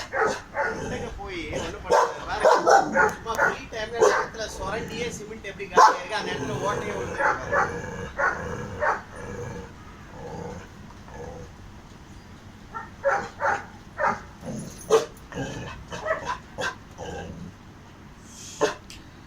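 Dogs of different breeds in Chennai bark, yip and whimper in short, irregular bursts at close range, mixed with people talking throughout.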